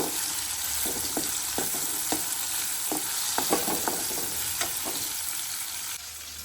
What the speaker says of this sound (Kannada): ಟೊಮ್ಯಾಟೊ ಒಂದು ಟೂ ಮಿನಿಟ್ಸ್ ಚೆನ್ನಾಗಿ ಅದು ಫ್ರೈ ಆಗಲಿ